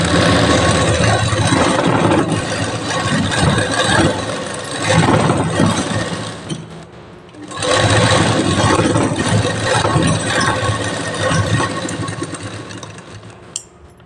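A sewing machine stitches the folded hem of palazzo pants, running in a loud continuous mechanical whir that eases off and pauses briefly near the middle before starting again.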